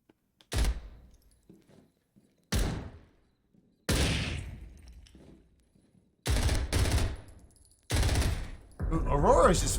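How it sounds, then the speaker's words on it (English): Gunfire in the tactical shooter Zero Hour during an esports league match, a player firing down a hallway: five loud, close bursts of rapid shots, each cut off sharply and separated by short quiet gaps. "Aurora is just firing down the hall"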